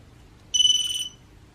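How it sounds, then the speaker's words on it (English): An SPC 95X micro drone's buzzer lets out a single loud, shrill electronic beep lasting about half a second, standing alone over faint background hiss. "because the buzzer is really loud. You'll definitely hear the buzzer."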